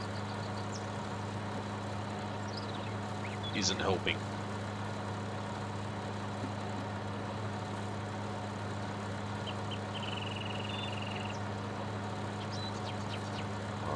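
A 250-horsepower tractor engine labors while plowing in a farming video game, set in New Woodshire, USA. It makes a steady, low, idling-like hum throughout, with someone talking briefly over it.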